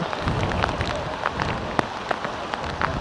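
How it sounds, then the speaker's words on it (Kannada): Heavy rain pours at a hilltop temple at Kavaledurga Fort, making a dense, steady hiss with scattered sharp drop impacts close by and no voices. "ಸಖತ್ ಮಳೆ ಬರ್ತಿದೆ, ಆದ್ದರಿಂದ ಎಲ್ಲರೂ ಅಲ್ಲಿ ನಿಂತಿದ್ದಾರೆ"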